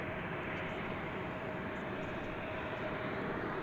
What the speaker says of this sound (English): We've got a plane lining up to take off.